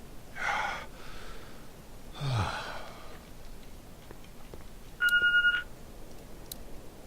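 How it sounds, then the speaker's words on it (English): Two heavy breaths or gasps, then a short electronic telephone beep rings out once, clean and close, followed by faint ticks, in The Walking Dead video game. "Oh, so it's the phone."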